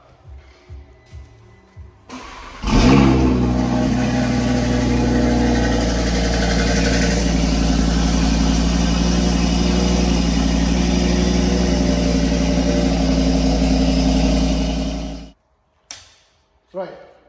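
An Audi RS3 saloon fitted with a decat downpipe and upgraded intercooler fires up on a dyno and settles into a loud, steady, raspy idle that holds for about twelve seconds before cutting off, with brief sounds before and after.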